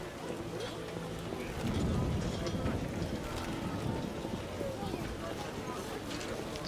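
Steady rain in the video game The Witcher Enhanced Edition patters and hisses throughout, with a brief heavier surge partway through and a faint voice murmuring underneath.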